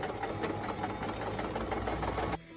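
A sewing machine stitches red velveteen strips together, its motor running in a steady, loud, continuous whir at close range, with no talking, then stopping abruptly just before the end.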